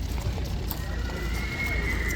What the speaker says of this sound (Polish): O, tu jest zapakowany duży koń.